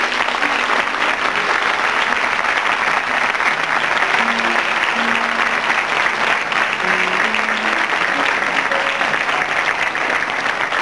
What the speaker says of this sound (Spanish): les gustaría que ustedes lo aplaudieran